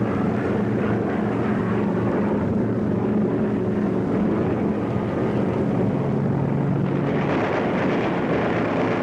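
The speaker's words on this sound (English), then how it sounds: "the radar warning system picks up enemy planes gathering over the French coast" German warplanes flying in formation over the French coast in wartime make a continuous, heavy, droning roar of engines that stays loud throughout with no talking.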